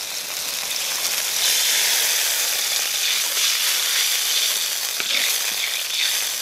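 Steady bubbling and sizzling from a pot of orange sauce on the boil, a constant close hiss with small pops, no voices.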